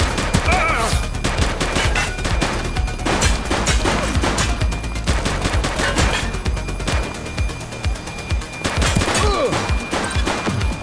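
Rapid gunfire in The Precinct, a police game, sharp loud shots crackling in bursts and volleys for several seconds, some near and some echoing, with brief pauses between clusters.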